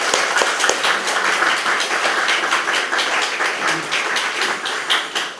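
A church congregation at an elder and deaconess ordination thanksgiving service breaks into applause, dense sustained clapping from many hands filling the room for the whole stretch at a loud, steady level.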